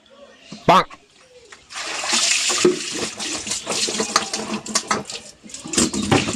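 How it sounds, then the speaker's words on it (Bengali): Potatoes are washed under a running tap, with continuous splashing and spattering water, occasional knocks against a pot, and a brief voice just before the water starts. "এই আলুগুলো একটু ধুয়ে ফেলো তো"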